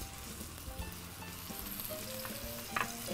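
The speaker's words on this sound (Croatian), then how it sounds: "stranu s pršutom stavljamo peći na vruću masnoću u tavu." Pork steaks with prosciutto, prosciutto side down, fry in hot fat in a pan. The sizzle is close and steady, with a few soft clinks and a brief louder crackle near the end, and nobody speaks.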